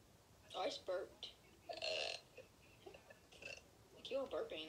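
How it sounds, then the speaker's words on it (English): Someone burps several times in close succession, loud and near, mixed in with short bits of talk and laughter in a quiet room. "Like you were burping."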